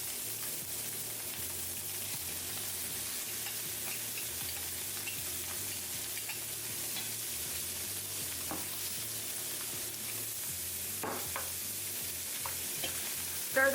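A spoon stirs seasonings into beef stew browning in a pot, with a soft steady sizzle and faint scraping, low and even, no talking.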